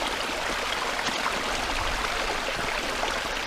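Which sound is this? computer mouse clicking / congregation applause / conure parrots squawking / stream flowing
stream flowing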